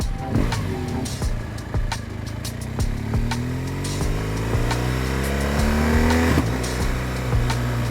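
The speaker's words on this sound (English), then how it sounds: "Still has that classic boxer sound." A BMW R1200 GS boxer-twin motorcycle engine revs up and down close by, its throaty drone rising in pitch through several quick-shifter gear changes with sharp pops between.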